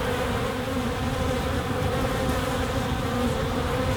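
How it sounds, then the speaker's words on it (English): Honey bees, many of them young, buzz in a dense, continuous hum close around an opened beehive, steady and loud with no voices. "There's a lot of young bees in here all coming out."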